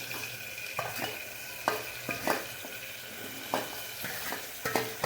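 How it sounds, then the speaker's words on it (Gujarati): A paste of onion, ginger, garlic, tomato and green chilli sautés in hot oil: a constant close sizzle broken by repeated scraping and clinking strokes of a spoon against the pan, roughly every half second to second. "હવે આ તેલમાં સાંતળવા મૂકી દેવાની છે 2 થી 5 મિનિટ"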